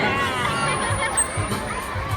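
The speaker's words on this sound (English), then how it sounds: "A round of applause for our brand guides and our homing pigeons." A crowd at the Manila Ocean Park bird show cheers and claps for the trainers and homing pigeons, a busy wash of voices and shouting children that is moderately loud and continuous.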